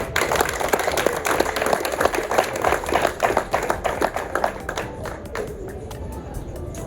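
An audience applauds at a football federation gathering, a dense spread of hand claps that gradually thins and grows sparser toward the end, with some voices mixed in.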